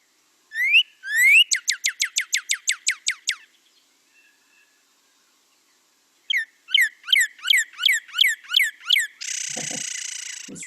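Backyard bird song: a clear, whistled phrase of rapid repeated rising notes in two bursts, a pause, then another run of evenly spaced whistled notes ending in a buzzy trill, close and alone.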